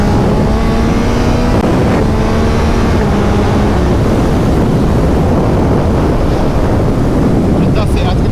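A Yamaha MT-09 motorcycle being ridden and accelerated, its engine note rising and falling under heavy, constant wind roar.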